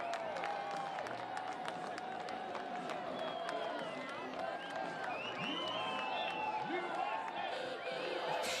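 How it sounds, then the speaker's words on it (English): Spectators lining the streets at the St. Andrews Mardi Gras parade at 11th Street and Beck Avenue make a steady, moderately distant crowd din with scattered cheers, whoops and clapping, while a nearby voice talks over it. "Hear people kind of cheering right now, just enjoying the atmosphere."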